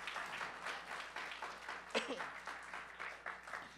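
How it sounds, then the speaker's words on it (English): Church congregation clapping in praise during a Filipino worship service, a moderate, steady patter of many hands with faint voices mixed in, fairly quiet and roomy. "can we just give God the best clap of praise po?"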